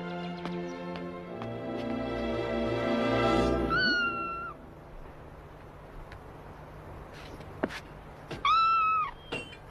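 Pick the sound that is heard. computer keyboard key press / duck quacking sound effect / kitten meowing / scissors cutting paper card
kitten meowing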